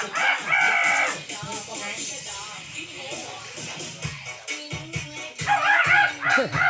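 Chickens clucking and squawking nearby with a rooster crowing among them, busy and close, with some human voices mixed underneath.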